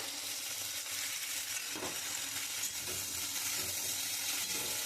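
Tomato with chilli powder and cumin sautéing in a pan for a poppy-seed okra dish gives a steady close sizzle, broken now and then by the scrape of a stirring spoon, with no talk.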